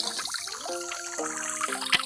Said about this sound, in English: The water is going through the pipe.